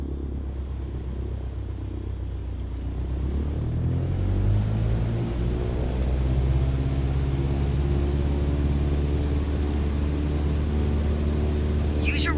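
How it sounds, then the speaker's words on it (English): A light aircraft engine in Microsoft Flight Simulator 2020 runs up to full takeoff power, a steady droning roar that rises in pitch and intensity from about three seconds in and then holds continuously. "Apply full power and I'll walk you through the takeoff as we go."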